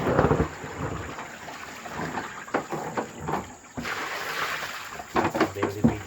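Wet splashing and sloshing as soybeans for tempe are trodden underfoot and doused with water, a rain-like wash of irregular splashes and thuds, close and fairly loud, with no talking.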